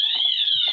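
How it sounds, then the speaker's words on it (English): An electronic alarm sounds a steady, piercing high-pitched tone through the whole short burst. It stays loud and unbroken, with faint background noise underneath. "set off the alarm"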